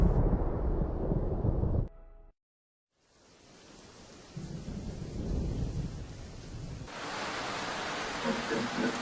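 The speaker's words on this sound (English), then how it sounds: "That waterfall's getting more intense." A waterfall and storm in a video game, heard as a loud wash of rushing noise that cuts out briefly, returns quieter, and then swells into a louder, steady roar.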